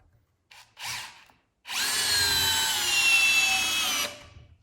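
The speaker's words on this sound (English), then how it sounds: "So very fast drill with plenty of power there." A Bosch GSR 12V-300FC cordless drill/driver gives a couple of short whirring bursts, then a loud, steady high-pitched whine for about two and a half seconds, driving a countersink screw, before stopping abruptly.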